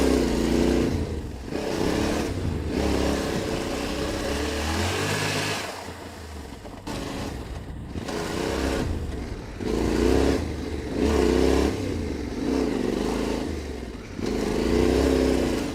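A Yamaha Tenere 700 adventure motorcycle engine revs and accelerates in repeated loud, close bursts during off-road drift practice, rising and falling several times with brief dips between pulls.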